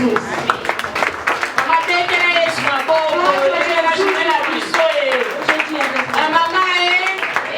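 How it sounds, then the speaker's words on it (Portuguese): A women's congregation claps rhythmically for Jesus at a church gathering, sharp repeated claps running under a loud voice and singing-like talk throughout. "Aplaudir a Jesus."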